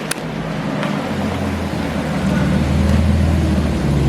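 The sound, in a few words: car engine and exhaust as car drives by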